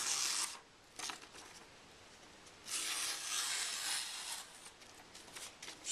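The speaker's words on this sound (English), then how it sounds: "Let's just try pulling the paper up along the edge." Paper being drawn along the edge of a Spyderco Mule knife with an Elmax steel blade, producing hissing, scratchy slicing strokes in several long passes, close and fairly quiet with no talking.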